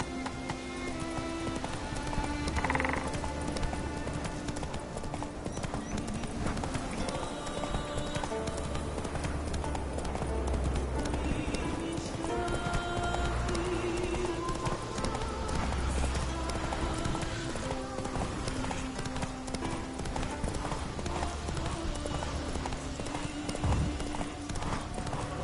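Roach, a horse in the video game Witcher 3, gallops with rapid continuous clip-clop hoofbeats over layered game ambience, holding a steady rhythm throughout.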